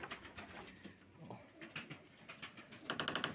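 Pigeons coo softly in low, repeated calls, with a quicker run of fluttering coos near the end.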